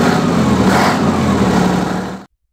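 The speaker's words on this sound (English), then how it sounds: "The unique sound of a 12V71, that high, urgent chatter of a two-stroke diesel underload" A Detroit Diesel 12V71 two-stroke diesel engine under load gives a steady, loud, dense mechanical chatter with a high, urgent edge, running continuously and then cutting off abruptly into silence.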